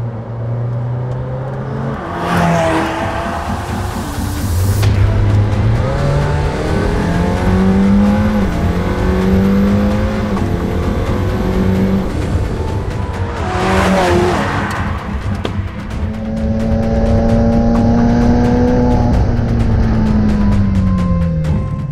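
A McLaren Senna sports car accelerates hard, its engine loud and close, rising in pitch through two upshifts and climbing again after each change.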